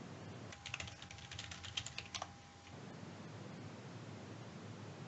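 Typing on a computer keyboard, heard as a quick burst of close, light key clicks for about two seconds, then only steady background hiss with no talking.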